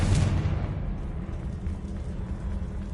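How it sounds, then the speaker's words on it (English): Confringo blasting spell smashing through a magical barrier in Hogwarts Legacy: a loud, deep rumbling blast at the start that fades into a low, lingering roar. "Another barrier. Confringo! We can blast through it, I'm certain."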